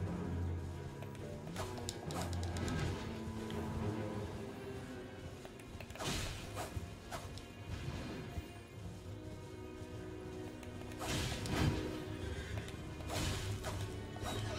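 A horse in the video game Elden Ring whinnies and neighs amid clattering hoof-like steps and crashing impacts, a busy, layered mix with several sharp bursts.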